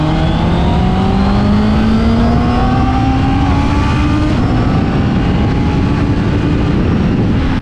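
A 2025 Honda CB650R inline-four motorcycle engine revs loud and close, a continuous howl whose pitch climbs steadily through the whole stretch, with no talking.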